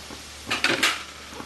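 Chopped tomatoes drop into a pan of Bengali potato, eggplant and prawn curry, giving a short burst of clattering, scraping stirs and a soft sizzle that lasts about half a second, then fades to quiet.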